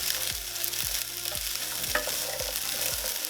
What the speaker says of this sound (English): Just mix it around. Let the veggies cook a little bit.